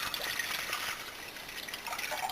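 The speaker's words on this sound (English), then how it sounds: "And so we add 5 cups of water." Water pours steadily into a soup pot, five cups for a lentil leek soup, a continuous close splashing trickle with no talking.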